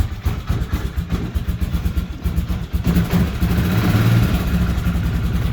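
A 2006 Hoss CFMoto 4x4 side-by-side idles steadily nearby, a continuous low mechanical rumble with a slight throb that holds even throughout, no speech over it.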